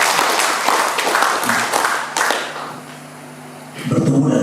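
Audience applause at the third regional congress (Musda III) of the KNPI youth committee in Teluk Wondama, a broad crowd clapping that swells, thins briefly, then picks up again.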